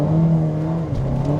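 Front-wheel-drive 2020 Mercedes-Benz GLB small SUV at full throttle with its front tires spinning, giving a loud, steady engine drone that holds close and alone throughout.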